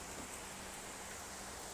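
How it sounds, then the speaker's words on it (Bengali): Heavy rain falls outside in a steady, faint, even hiss with no breaks and no voices. "এই যে এত বৃষ্টি হচ্ছে"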